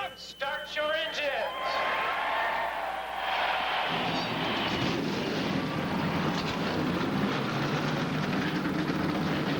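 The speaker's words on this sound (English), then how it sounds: "Gentlemen, start your engines." NASCAR Winston Cup stock car engines fire up at the 1999 Michigan race, a broad, building roar that swells and holds under a loudspeaker announcement and crowd noise.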